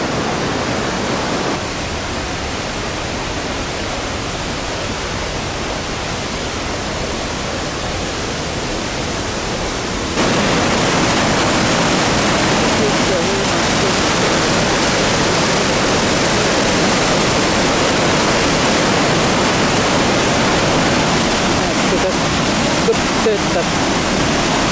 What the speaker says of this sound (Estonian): Jalutame mingi kose juurde.